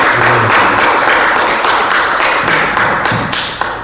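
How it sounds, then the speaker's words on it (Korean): A church seminar audience at a Korean Lutheran general assembly gives loud, sustained applause, dense clapping filling the room and tapering slightly at the end. "박수 크게 쳐주셔서 감사합니다"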